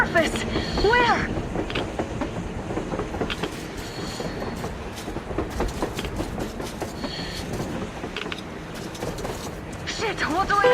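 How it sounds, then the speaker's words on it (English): A train rumbles past in Metro Exodus with rolling clickety-clack of wheels, metallic squeals and a steady mechanical roar, loud and sustained, with faint voices mixed in. "A damn train on the surface!"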